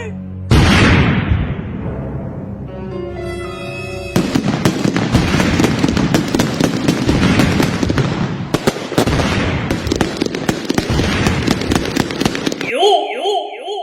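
Diwali firecrackers go off inside a shop in a dense, continuous barrage of sharp cracks and bangs, loud and close, with shouting voices over the blasts and a burst of whistling crackle near the end.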